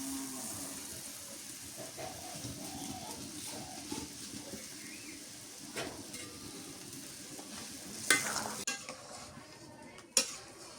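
Fish frying in a pan during village home cooking give off a steady, faint sizzle, broken by clinks and stirring of utensils and a couple of sharp metallic clatters near the end.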